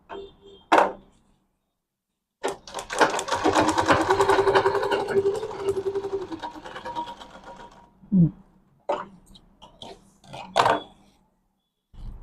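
A sewing machine stitches a bag, sounding loud and close: a short burst, then a long run of several seconds, followed by scattered clicks and brief handling noises.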